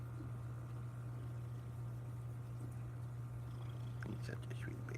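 A large cat purrs on a person's lap: a low, steady, continuous hum close by, with faint clicks and rustling toward the end.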